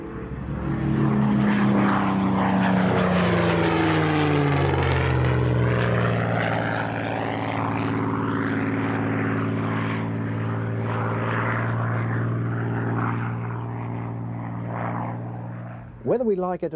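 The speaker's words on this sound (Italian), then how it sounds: "tuttora è possibile sentire il rombo di un Merlin, o di un Mustang, o di uno Spitfire" A deep, droning propeller aircraft engine roars steadily and loudly, its pitch sliding downward as it passes, then fading slightly toward the end.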